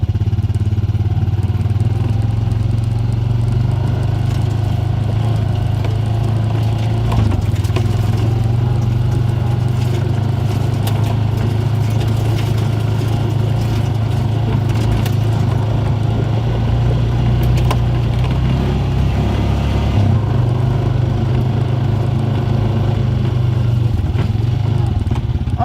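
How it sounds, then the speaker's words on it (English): Four-wheeler ATV engine driving across a ranch, a loud, steady low rumble close by throughout with rattling clatter and slight shifts in pitch as it rolls over rough ground. "I'm sorry for the noise of the four-wheeler."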